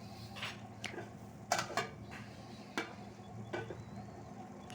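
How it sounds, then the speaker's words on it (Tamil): Bitter gourd curry simmering in a pot, cooked in a home kitchen grandma style, gives a soft, steady bubbling sizzle. Half a dozen sharp utensil clinks and scrapes cut through it, fairly quiet and close, with no talking. "நல்லா கொதிக்க வச்சு பார்த்திங்கன்னா சூப்பராக நல்லா கொதிக்குது இல்லையா"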